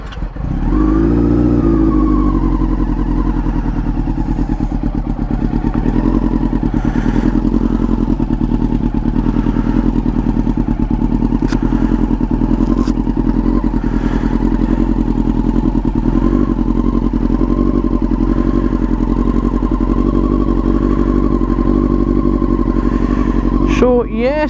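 A motorcycle engine cold-started and left idling outdoors early in the morning, a loud, steady close-up rumble that holds at a constant pitch throughout with a slight rise near the start.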